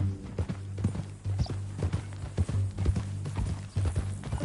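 Horse hooves clip-clop steadily on the ground in the western game Red Dead Redemption 2, a regular near rhythm of hoofbeats over a low humming background, with no talk.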